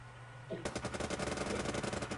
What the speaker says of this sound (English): Ooh, gunshots have been fired.